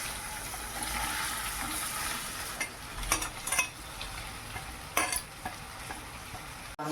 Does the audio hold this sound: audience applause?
no